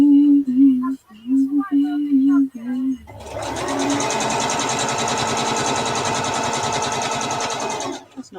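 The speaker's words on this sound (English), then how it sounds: "we're going to stitch that piece that I've just cut off to the main piece" Sewing machine stitching a freshly cut fabric piece onto a larger main piece, running in a steady continuous whir for about five seconds after someone speaks briefly at the start.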